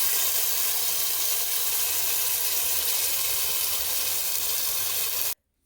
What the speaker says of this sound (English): Saute the paste in the coconut oil for few minutes.